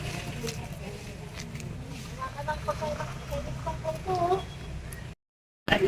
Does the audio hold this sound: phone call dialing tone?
no